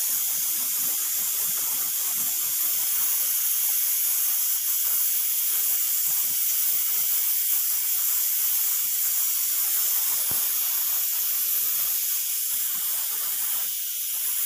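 Starchy water being poured off a pot of cooked rice, a steady loud hiss like steam and running water that continues unbroken, with one brief click partway through.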